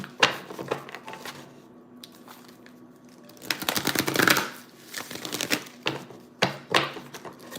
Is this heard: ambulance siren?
no